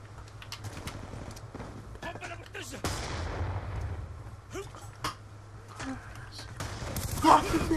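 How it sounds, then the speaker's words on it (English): Black Ops 2 match audio with scattered gunshots, thumping explosions from a grenade kill and distant firing, moderately loud, while a player talks over the action. "Oh, I got a grenade kill."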